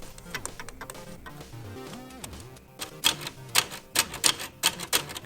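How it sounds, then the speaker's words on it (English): The plastic curtain assembly of a Lego bowling pinsetter clatters and ticks rapidly in an irregular mechanical rhythm, growing into sharper, louder knocking toward the end. "This curtain assembly is loud"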